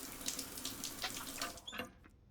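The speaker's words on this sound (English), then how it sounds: "I'm going to go on ahead and shower." Running water in the Stationeers video game as a character showers, a steady broadband hiss with a few brighter spattering bursts, moderately quiet and alone, tailing off near the end.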